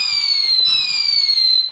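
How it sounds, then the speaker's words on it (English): A whistling firework shrieks on bonfire night, a loud, sustained high-pitched whine that slowly falls in pitch, over faint low rumbling and crackle in the background. "These are actual proper fireworks."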